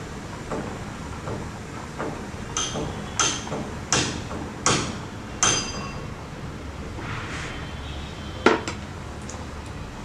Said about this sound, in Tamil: ரவையை போட்டுட்டு அப்படியே கலக்கி விடுங்க. நல்ல லோ ஃப்ளேமில் வச்சுக்கோங்க.